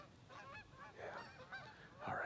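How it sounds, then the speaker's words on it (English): Geese honk in a loose overhead flock, several rough calls repeating in quick succession at moderate distance, with someone briefly speaking quietly beneath them. "Hear those geese overhead?"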